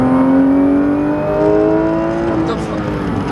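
Porsche 991 GT3 RS at full throttle on a racing circuit, its engine note climbing steadily in a loud, continuous high-revving howl heard from inside the car, with an instructor's voice over it.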